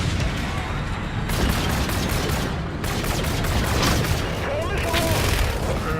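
Rapid bursts of gunfire and booming blasts from the video game Infinite Warfare fill a busy, continuous mix of shots and explosions.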